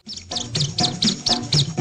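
House sparrows chirp in a quick, regular series of about seven short, bright calls, close and clear, with no voices.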